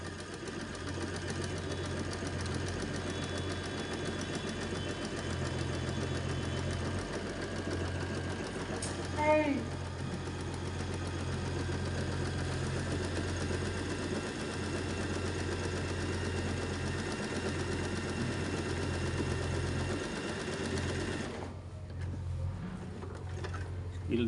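An Usha Janome Allure DLX sewing machine runs continuously, a steady close mechanical hum and whir that stops near the end, with faint talk.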